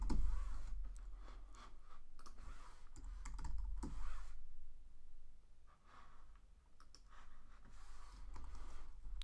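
Someone types a short word on a computer keyboard, a few quick clustered keystrokes and clicks with pauses between, up close and fairly quiet, with soft breathing and no talk.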